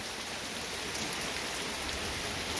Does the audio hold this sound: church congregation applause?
no